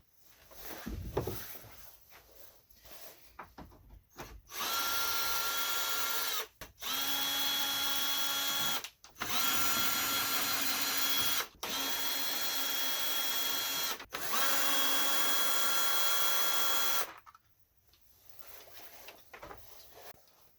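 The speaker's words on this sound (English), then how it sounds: "I gotta remove the fender guard Torx screws." A power tool spins out Torx screws from the fender guard of a VW B5 Passat 2.8L V6. It gives five whirring bursts of a few seconds each, with short pauses between them, after some handling noises at the start.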